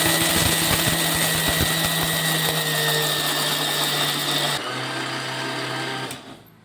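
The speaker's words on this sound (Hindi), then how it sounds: "मूंगफली के दानों को अब हम ग्राइंड करेंगे।" Mixer grinder grinding peanuts in a large jar, a steady loud motor whine with grinding rattle that drops in pitch near the end before switching off.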